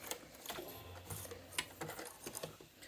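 Sewing machine stitching a piped cushion cover: a quiet, close, uneven run of rapid mechanical needle clatter and small knocks, with no one talking.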